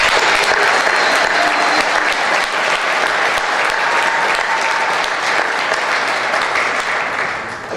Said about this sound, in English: I hope you can join me in giving yourselves a round of applause as well.